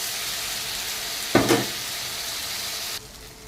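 Poppy seed paste with onion and garlic paste fries in a pan with a steady, close sizzle, broken once by a short clatter of stirring, then softens near the end.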